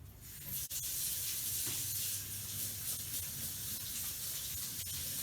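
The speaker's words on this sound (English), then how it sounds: "I'm going to wash my hands for 20 seconds" Tap water runs in a steady hiss into a kitchen sink during handwashing, close and continuous, with a couple of brief dips as hands move under the stream.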